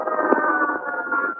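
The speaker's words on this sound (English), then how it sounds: "Sirens can be heard as the motorcade races the 4 miles to Parkland Hospital." Wailing sirens of a presidential motorcade racing the four miles to Parkland Hospital, a loud sustained electronic tone holding steady across a brief moment, heard alone.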